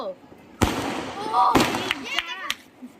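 Diwali firecracker shots burst in sharp, loud bangs at about two points, each followed by crackling and fizzing, while several voices talk excitedly throughout.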